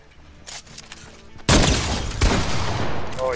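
Quiet game sounds give way to a loud burst of gunfire in the video game Fortnite, a dense rattle of shots with a sharp crack partway through, fading into trailing noise.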